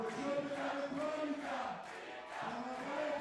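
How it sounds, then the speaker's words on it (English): At a bouldering competition final, a crowd chants a climber's name in rhythmic surges. The massed voices rise and fall in waves, with a brief dip before the chant picks up again. "The crowd is chanting Mika."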